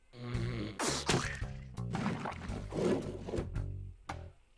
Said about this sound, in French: Ça, c'est du gargouillis